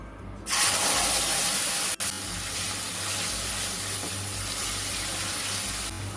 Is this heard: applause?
no